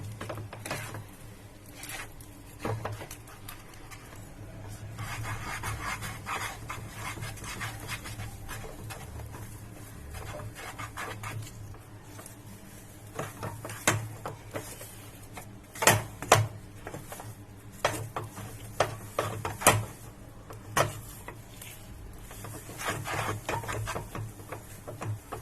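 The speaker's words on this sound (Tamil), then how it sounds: "எல்லாத்தையும் போட்டு நம்ம நல்லா மிக்ஸ் பண்ணிக்கலாம். நல்லா மிக்ஸ் பண்ணணும்." A spatula stirs and scrapes a cashew katli dough of cashews and sugar in a pan on the stove, making quiet, irregular scraping and tapping over a low hum.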